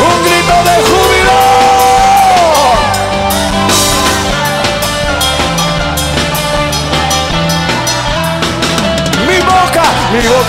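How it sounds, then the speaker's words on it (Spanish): Congregation at a Spanish-language church service shouting for joy: a loud mass of yells and whoops rising within dense live worship music, sustained throughout. "Un grito de júbilo."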